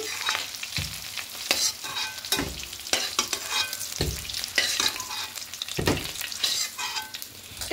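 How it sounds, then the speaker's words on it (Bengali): Potato pieces fry in hot oil in a kadai, a continuous sizzle broken by repeated sharp scrapes and clanks of a spatula stirring and lifting them, fairly close and moderately loud with no talk. "দেখুন হালকা করে ভাজা হয়ে গেছে, এবার তুলে নেব।"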